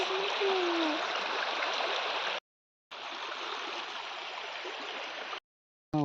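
A flowing stream crossed on foot on the way to a village temple, its broadband rush steady and close, cut by two brief dropouts.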